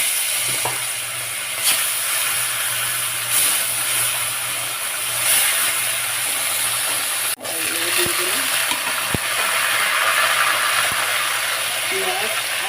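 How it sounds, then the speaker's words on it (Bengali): Kana fish fry in hot oil in a home kitchen, giving a steady, close crackling sizzle that runs unbroken with a brief dip midway and a few sharp clinks on top. "তেল গরম হয়ে গেছে, মাছগুলো এবারে ভেজে নেব।"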